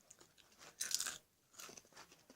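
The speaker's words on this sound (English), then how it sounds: "they're like hollow inside, so they're really crunchy." Crunchy hollow animal-shaped snack bitten and chewed up close, a couple of bright crisp crunches followed by softer chewing, quiet overall with no talk.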